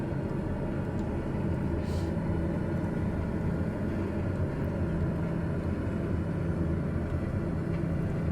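A small aircraft's engine drones and rattles steadily in Microsoft Flight Simulator around Burbank, a dense low rumble holding constant throughout with no voices.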